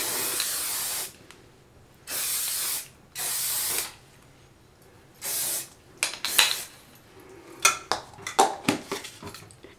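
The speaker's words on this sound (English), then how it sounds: "Reach over for a tiny little bit of hairspray, and that can is almost empty." A nearly empty can of hairspray gives four short, close bursts of spray, each lasting about a second, followed by light clinks and rattles of objects being handled.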